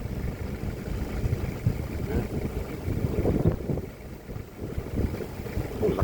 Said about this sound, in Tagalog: Oh, lakas ng hangin mga kapsat.